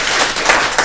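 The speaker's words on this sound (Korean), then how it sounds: "반장한테 박수 한번 줘요" Applause from a lecture class at Hoseo University's Cheonan campus, greeting the class representative; a short burst of dense clapping from a room of students, steady and fairly loud throughout.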